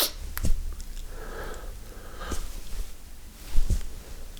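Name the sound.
person imitating a snort in a charades game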